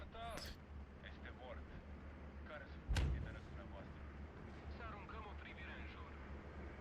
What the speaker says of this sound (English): The 50mm mortar taking out the 60mm mortar.